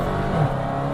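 A 707-horsepower Dodge Challenger Hellcat engine floored in second gear, a loud, steady, close roar without speech.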